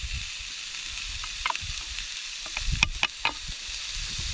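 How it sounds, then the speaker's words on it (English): Close, steady sizzling of pancetta frying in a pan without oil on a Trangia camping stove at a beach, with a few light scrapes and pops breaking through the hiss. "Lovely sizzle."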